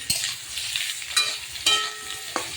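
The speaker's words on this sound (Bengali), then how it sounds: "অল্প তেল দিয়ে আগে কচুটা ভেজে নিচ্ছি, লবণ হলুদ দিয়ে একটু।" Taro pieces frying in a little oil with salt and turmeric, a soft steady sizzle broken by a few sharp clinks and scrapes of stirring, close by and with no talking.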